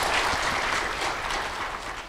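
Applause from a church gathering welcomes Pastor Park Hong-kyu of Somyung Central Church, a dense, steady clapping from a crowd that stays loud throughout and eases slightly toward the end.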